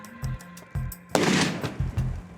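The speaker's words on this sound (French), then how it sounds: "on les amène sur l'utilisation d'un canon à eau pour disloquer la charge" Bomb disposal water cannon fires to disrupt a charge: a sudden loud, close blast bursts out and decays into a rushing spray, following a few short dull thumps.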